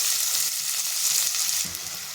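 Three large chopped onions with curry leaves sautéing in a hot pan for tomato bhaji, a dense steady sizzle with faint stirring scrapes close by.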